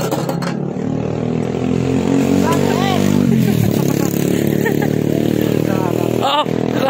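Motorcycle engine droning steadily while riding along a road, loud and close throughout with wind rumble and occasional clatter, and voices chatting over it.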